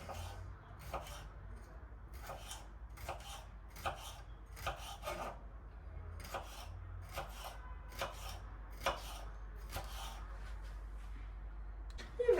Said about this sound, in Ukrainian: Зараз постараюся його також так соломкою нарізати.